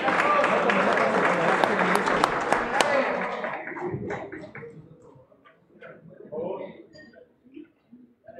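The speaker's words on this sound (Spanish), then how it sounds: "Aplauso, por favor, señores" Spectators at a three-cushion billiards exhibition match in Mexico break into loud, sustained applause that fades out after about four seconds, followed by scattered quieter sounds and voices.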